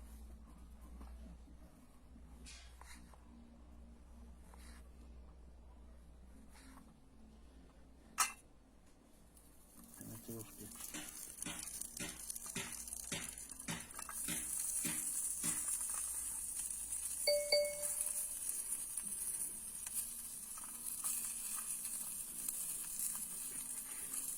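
Steady sizzling and crackling of food frying in a compact pan outdoors, with scattered ticks and clicks, fairly close and continuous throughout.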